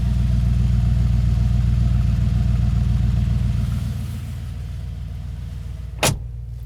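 Deep, throbbing exhaust rumble from the V8 of a 2020 Mercedes G63 AMG idling close by, easing slightly in level, with a brief sharp click near the end.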